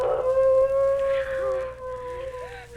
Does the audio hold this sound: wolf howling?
yes